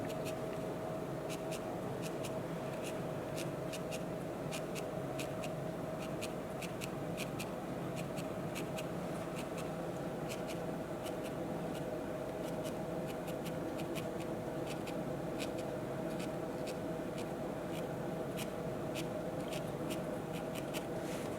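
A felting needle jabs repeatedly into wool fiber while shaping a needle-felted Easter egg, a steady stream of quick soft pokes and faint scratchy ticks over a constant low room hum.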